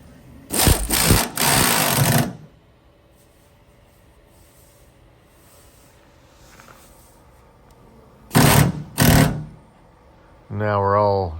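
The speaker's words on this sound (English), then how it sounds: "I'll tighten this bolt down, and then this fender will be all set." Bolt on a car fender, fitted with two shims, being tightened down in short bursts of a power driver, two buzzing runs near the start and two more later, loud and close, with a rising whine at the end.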